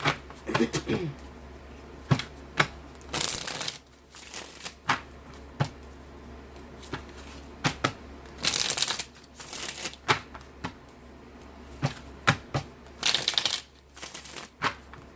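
Tarot cards are shuffled in repeated bursts of riffling and slapping, close and crisp, with short pauses between shuffles and a faint voice now and then.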